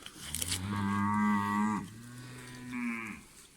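Cows moo on a Polish farm, two long, deep, close calls one after another, the first loud and sustained, the second slightly shorter, with no talk over them.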